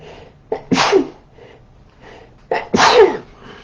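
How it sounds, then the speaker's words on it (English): Two loud, close sneezes about two seconds apart, each with a short sharp inhale before the burst, alone with no talking. "I'm going to sneeze."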